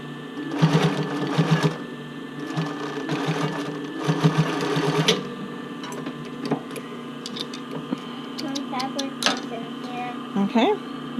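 A sewing machine stitches rolled-edge elastic on a sports bra, quick bursts of needle chatter broken by pauses for pivoting, with someone talking in between.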